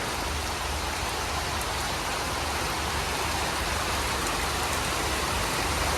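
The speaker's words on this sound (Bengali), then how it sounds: "তো ভালোই বৃষ্টি হইতেছে" Heavy rain pours steadily in a village, a dense, even hiss of drops striking surfaces that stays constant from start to finish with no talking.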